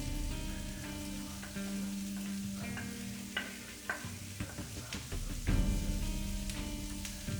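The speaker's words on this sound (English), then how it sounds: "we're going to add a little more oil and dump the onions in" Onions and flour fry in oil in a pan, giving a steady close sizzle broken by stirring scrapes and a burst of louder hissing near the end.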